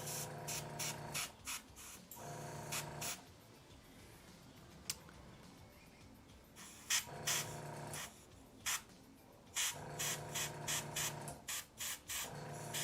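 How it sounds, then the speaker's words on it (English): Airbrush spraying yellow paint onto the wings of a model, with repeated short hissing bursts close up, spaced by brief pauses, each burst starting and stopping sharply. "using the angle of the airbrush to only cover the areas that I want to have yellow"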